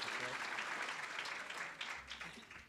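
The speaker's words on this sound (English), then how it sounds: "Some hand clap, Nyana." Lecture audience claps in a steady burst of applause that fades slightly toward the end, with a voice faintly under it.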